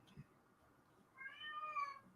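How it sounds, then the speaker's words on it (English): A European cat gives a single faint, drawn-out meow, rising and falling after a quiet stretch, heard at a modest distance. "And the European cat breaks the silence."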